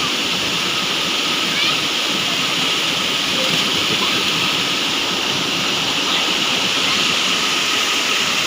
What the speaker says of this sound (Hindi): ये है मेरे गांव दोस्तों, मेरे गांव का ये छोटा सा नदी झरना आप बोल सकते हो, वाटरफॉल छोटा सा